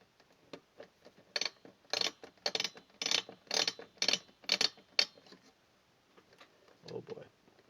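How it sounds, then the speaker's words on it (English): A CPU cooler is screwed down during a PC upgrade from an Athlon X4 845 to a Ryzen 5 1600 AF, giving a close run of about eight sharp ratcheting clicks in steady rhythm, then a few softer clicks and faint handling noise. "and screw it in."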